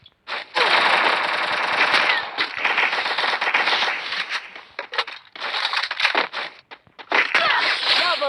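Dense video game gunfire, sustained rapid automatic bursts broken by brief pauses, loud and close throughout.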